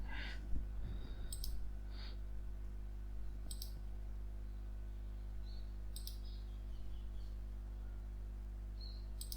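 Several single computer mouse clicks in Creo Parametric come spaced a second or two apart, crisp and close against a quiet background hum.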